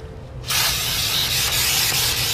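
Brake parts cleaner sprayed onto brushed aluminum motorcycle parts, a loud sustained aerosol hiss that starts abruptly after a brief quiet moment and continues steadily.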